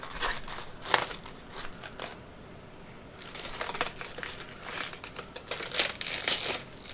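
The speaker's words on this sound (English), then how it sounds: "Start by taking off the outer leaves of the cabbage." Outer leaves are pulled off a head of cabbage in a kitchen, giving close, crisp crackling and tearing with a short pause in the middle and no talking.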